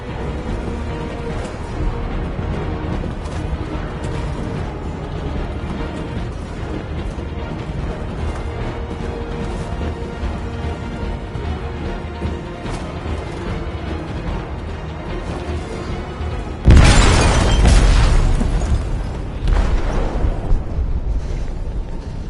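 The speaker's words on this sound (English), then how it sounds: "They detonated an explosive in the hold." A bomb detonates in a ship's hold in a video game: a sudden loud, broadband blast that erupts out of a steady rumbling din and then breaks into crashing, rolling debris noise.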